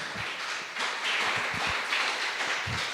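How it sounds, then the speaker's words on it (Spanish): A church congregation applauding, a broad wash of clapping that swells and holds steady, with some individual claps standing out near the front. "Dele fuerte aplauso al Señor, aleluya"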